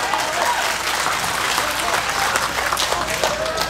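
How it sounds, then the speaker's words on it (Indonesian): A crowd at an Islamic religious gathering in Taichung, Taiwan, gives sustained, dense applause for the Laskar Cirebon community group, loud and continuous throughout with a faint murmur of voices underneath. "Tepuk tangan untuk Laskar Cirebon"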